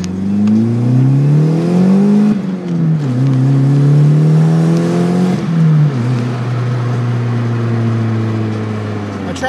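A turbocharged DSM car engine revving hard and accelerating, loud and close, the pitch climbing and dropping through several rises with gear changes.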